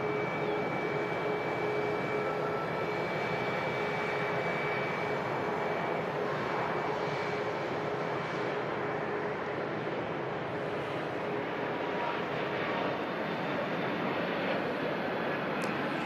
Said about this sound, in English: Turkish Airlines Airbus A321 heading back to Istanbul